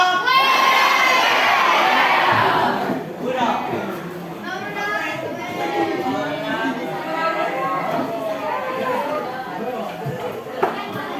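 A crowd of Indonesian junior high schoolchildren shouting a loud group cheer in response to a teacher's call, a sustained burst of many voices that breaks into excited chatter and scattered shouts.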